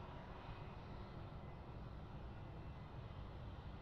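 Airbus A380 on final approach to Sydney Airport runway 16 right, a steady distant broadband engine roar with no distinct events, faint and continuous, with no voices.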